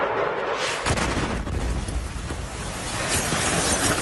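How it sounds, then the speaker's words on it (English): Artillery shelling during bombardment in Ukraine, a dense, loud roaring rumble with a sharp blast at the start and a continuous thunderous barrage that stays heavy to the end. "If you wonder what life is like under bombardment, watch this."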